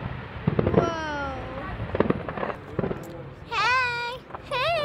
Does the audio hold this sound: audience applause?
no